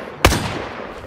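A single sharp gunshot cracks out in the WW2 shooter game Days of War, followed by a short, fading echo tail and a low background hum.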